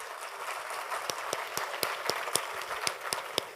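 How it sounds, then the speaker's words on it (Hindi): Scattered, fairly sparse handclaps ring out over a soft room hum as a DevFest 2022 tech talk audience claps for themselves, with individual sharp claps standing clear rather than merging into a roar. "आप लोग पहले खुद के लिए तालियां बजा लो"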